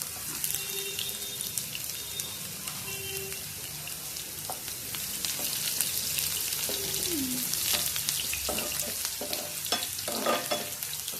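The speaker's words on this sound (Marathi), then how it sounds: "आता मस्त कांदा लाल लाल होईपर्यंत भाजून घेणार आहे मम्मी" Finely chopped onion browning in oil in a pan for ridge gourd (dodka) bhaji, giving a steady close sizzle with spoon scrapes and stirring clatter throughout, with no talking.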